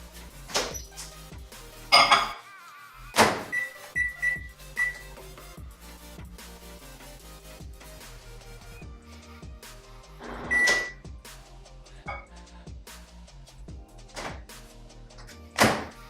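A beauty blender soaked in water, dish soap and olive oil goes into a microwave oven: close door thunks and clunks, a short run of keypad beeps, then a low steady hum with a few more knocks. No talking.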